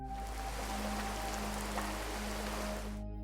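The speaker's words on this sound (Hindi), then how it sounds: "बारिश बहुत तेज हो रही थी" Steady, dense rain pours without pause, a thick wash of noise with a low engine-like hum beneath it, cutting off abruptly at the end.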